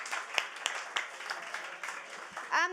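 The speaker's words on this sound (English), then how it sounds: "a big round of applause for you for turning up" Scattered audience applause at a storytelling event, a loose patter of claps rising and falling with a few louder hand claps, faint voices mixed in and a brief voice near the end.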